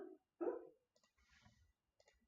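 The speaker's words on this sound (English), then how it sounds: "He always barks in his dreams" A pet dog gives soft, muffled sleep-barks while dreaming indoors, a quick low woof followed by a cluster of faint huffs and clicks, quiet and close with no talking.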